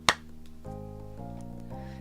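Hand clap sound effect in the video game Our Life: Beginnings & Always, a single sharp clap at the start, followed by soft sustained background music tones.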